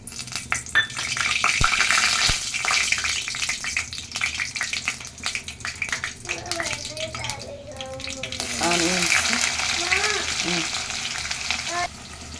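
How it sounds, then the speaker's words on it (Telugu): Tempering seeds, curry leaves, green chillies and onion frying in oil in a kadai on a stove, a loud crackling sizzle with stirring and pan scrapes, voices heard over it. "కరివేపాకు పచ్చిమిర్చి ఆనియన్ బాగా ఫ్రై అవ్వాలి"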